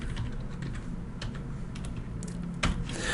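Rapid keystrokes clatter on a computer keyboard, a quick irregular run of soft clicks heard up close with no talking.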